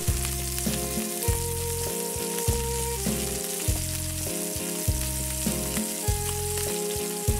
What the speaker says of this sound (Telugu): ఒక ఉల్లిపాయ 4 ముక్కలు కోసి వాటిని నూనెలో కొద్దిగా వేపి